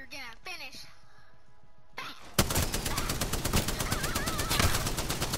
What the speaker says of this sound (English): I'm shooting you guys in the flipping dark.